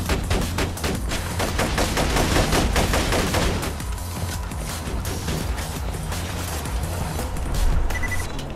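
Continuous automatic gunfire in Borderlands 2, loud rapid shots packed tightly together for several seconds, then thinning into a busier mix of game effects and rumble.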